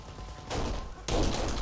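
Bursts of SMG gunfire in the game Kane and Lynch, two loud broadband volleys, the second starting sharper and louder, with no talk over them.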